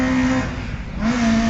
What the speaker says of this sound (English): a car that sounds like this for quite some time.